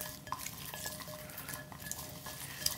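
Garlic cloves being hand-mixed with salt and pepper in a bowl, a soft, close squishing and rustling with light clicks, quiet and continuous with no talk.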